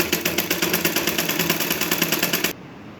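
A domestic sewing machine stitches a seam on a blouse, giving a steady, rapid, evenly pulsing mechanical whir close by that runs unbroken and then cuts off abruptly near the end, with no talking.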